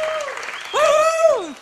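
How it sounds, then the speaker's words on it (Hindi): Studio audience claps for the new season of a Hindi comedy show, applause continuing beneath a loud voice that speaks and then swells. "और अब जोरदार तालियां हमारे नए सीजन के लिए"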